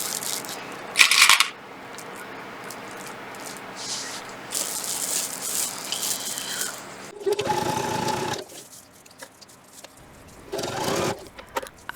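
A sewing machine stitches through four layers of an insulated tote around its top edge, in short sped-up bursts of fast mechanical whirring with brief pauses between runs.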